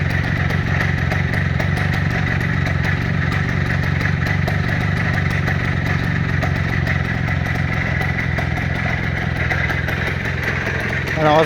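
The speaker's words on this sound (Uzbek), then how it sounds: "Mana hozir gaz berib ko'raman. Eshitib ko'rasiz motorlarni." Close, steady idle of a car engine, a constant low mechanical rumble with slight clatter, unchanging in level across the whole stretch with no talk on top.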